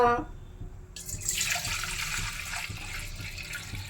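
Water for sugar syrup rushes and splashes steadily into a metal vessel, a close, continuous pouring hiss after a brief moment of other sound.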